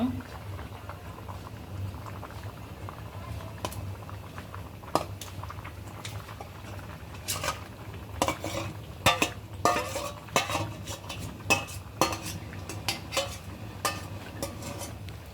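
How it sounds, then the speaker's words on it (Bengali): Braised, spiced meat tipped into a pot of bubbling khichuri and stirred in, with a steady simmer underneath and scraping, clattering stir strokes growing busier in the second half; a voice speaks briefly. "এখন দিয়ে দিব সেই কষানো মাংস।"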